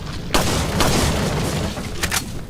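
A sidearm pistol in Resident Evil 4 fires three loud, heavy shots with a booming tail, close and spaced unevenly.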